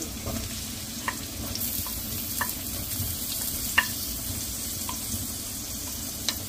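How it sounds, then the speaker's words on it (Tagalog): Garlic and onion fry in a pan for tanmen, giving a steady, loud sizzle with occasional clicks and scrapes of stirring, close by, with no talking. "antayin po natin mag-brown yung garlic at maluto yung onion"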